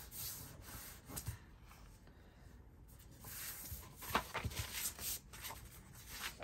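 Paper envelopes are handled and folded for a journal, giving close, quiet rustling and rubbing with soft creasing strokes that continue steadily throughout, no voices present.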